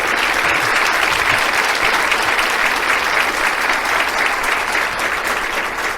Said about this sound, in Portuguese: aplausos para o Senhor.